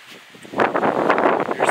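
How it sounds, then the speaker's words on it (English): Strong gusty wind blowing through a garden in early September, rustling and buffeting loudly after a quieter start and staying dense and continuous to the end, with no voices. "Looks like it's blowing up a storm."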